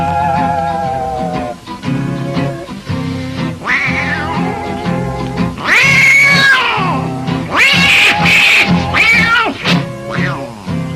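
A human voice mimics two old tomcats fighting, with loud drawn-out yowls and wailing caterwauls that rise into harsh screeches, packed close together and continuous for several seconds.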